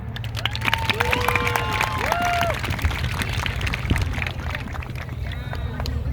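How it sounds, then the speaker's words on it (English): A crowd at a rally against Israeli occupation claps and cheers for the next speaker, sustained applause with rising and falling whoops and voices over it, fairly loud and continuous. "round of applause for our next speaker"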